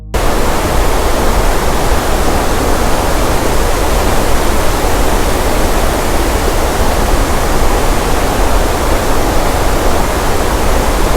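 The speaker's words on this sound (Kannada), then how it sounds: "ಸೊ ನಿಮಗೆ ತೋರಿಸ್ತೀನಿ ಫಾಲ್ಸ್ ಯಾವ ಥರ ಇದೆ ಅಂತ ಹೇಳ್ಕೊಂಡು" Chelavara waterfall in Coorg during the monsoon roars as a dense, steady wash of falling water, loud and close, with no pause or change across the whole stretch.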